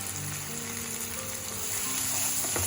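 Green chili paste sizzles and fries in a pan of mutton curry, a dense, steady hiss with faint stirring and no talk.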